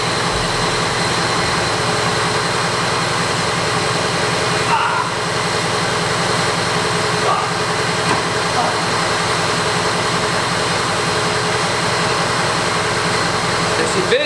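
A turbocharged Jeep XJ with oversized injectors and fresh heads runs just after startup, a steady, loud, close engine drone that holds for about fourteen seconds.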